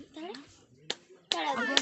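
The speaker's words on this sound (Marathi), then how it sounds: "अशी टाळ्या वाजव" A few sharp hand claps, spaced irregularly, ring out close by over lively chatter and voices.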